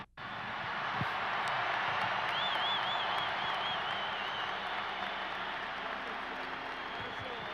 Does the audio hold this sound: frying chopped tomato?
no